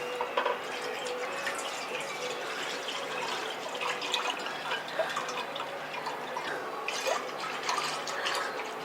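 Milk, one litre of thick packet milk, poured steadily into a pot for a strawberry falooda, giving a continuous close liquid splashing and trickling with no talk.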